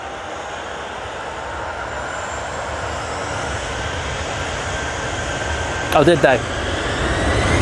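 TUI airliner approaching to land at Manchester Airport, a steady, fairly loud engine rumble building gradually, with a brief voice speaking near the end.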